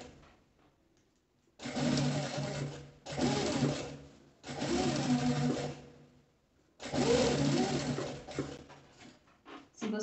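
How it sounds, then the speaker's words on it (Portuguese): Sewing machine stitching thick twill fabric at a longer stitch setting, running in four close, loud bursts of rapid mechanical chatter separated by short pauses. "Vou começar a costura aqui em cima. Vou aumentar meu ponto aqui pro 4, porque já tá mais grosso essa parte."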